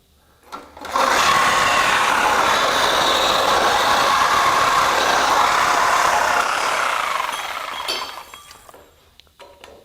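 Diablo Steel Demon thick-metal reciprocating saw blade cutting through 4-inch Schedule 40 steel pipe, a loud continuous buzzing, grinding rasp with metallic ringing that runs steadily for about seven seconds before tapering off as the cut finishes.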